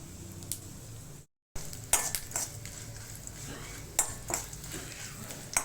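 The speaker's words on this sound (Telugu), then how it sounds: "ముందుగా ఆయిల్ వేడెక్కినాక ఈ మసాలా దినుసులు, ఈ పోపు సామాన్లన్నీ వేసుకోవాలి" Whole spices crackle and sizzle in hot oil, with sharp pops and occasional clinks of a utensil against the pan after a brief gap.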